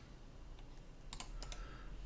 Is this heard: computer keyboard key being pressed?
yes